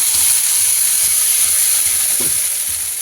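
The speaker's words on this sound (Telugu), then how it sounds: "తీసుకొని వాటర్ అయితే యాడ్ చేస్తున్నాము" Water is added to a hot pan of pea chaat masala, giving a loud, continuous steamy hiss and sizzle close up, with soft rhythmic stirring scrapes beneath and no voices.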